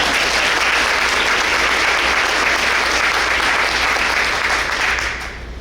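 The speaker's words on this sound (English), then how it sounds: "let's give them one more round of applause" A breakfast audience gives a sustained round of applause for three high school student speakers, dense steady clapping filling the room before tapering off at the end.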